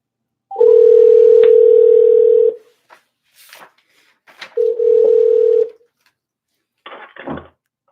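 A steady electronic telephone ringback tone sounds twice, each a long flat buzz, followed by brief clicks and a short burst of line noise.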